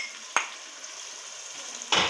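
Tomato masala sizzling and frying in a pan, with a steady hiss broken by two sharp scraping stirs, close and moderately loud, no talking.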